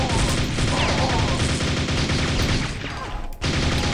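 Rapid, dense nailgun fire in the game Quake, a continuous stream of close, loud shots running almost without a break for several seconds before a short dip near the end.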